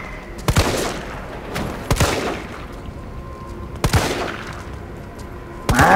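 Gunfire from Resident Evil 3 rings out as four sharp, loud shots spaced irregularly across the stretch, each a sudden broadband crack with a short decay, over a steady background of game ambience.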